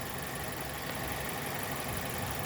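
A car engine idles steadily while its cooling system is bled through a spill-free funnel, a close, even mechanical drone with no change in pace throughout.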